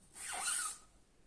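Paint-soaked red string is drawn out from between folded sheets of paper for string art printing, giving one brief soft rising swish and scrape, close and alone.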